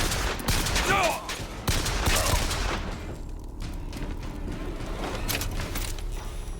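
Bursts of gunfire in a Bioshock Infinite firefight, a few sharp shots and rattling volleys in the first seconds that fade into a quieter, echoing ambience, with more scattered reports later.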